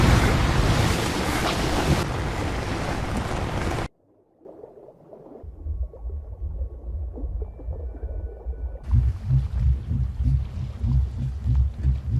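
Ocean waves wash and roll in repeated surges, loud at first, then quieter with a low rumble before the surf swells again.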